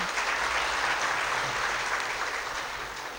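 Applause from an audience at a community gathering, welcoming a donor trustee: a steady wash of many hands clapping at once, held evenly for a few seconds before easing slightly.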